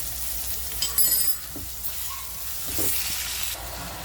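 Chopped onions fry with salt in a pan for a spiced cabbage dish, giving a steady, moderate sizzle with a brief brighter crackle near the start and some faint scraping, with no voices.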